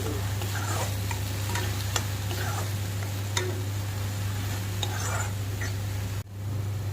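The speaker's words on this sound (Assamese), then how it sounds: "ৰচুন আদাখিনি ব্ৰাউন কালাৰ হোৱাত পিঁয়াজখিনি দি দিলোঁ।" Onions frying in a pan over browned garlic and ginger, a steady close sizzle with occasional sharp stirring clicks, broken by a sudden dip near the end beneath a constant low hum.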